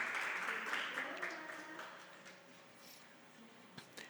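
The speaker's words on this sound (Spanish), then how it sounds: "Denle un aplauso" Congregation applause at a Sunday church service, a broad clapping wash that starts fairly strong and fades over about four seconds, with faint voices mixed underneath.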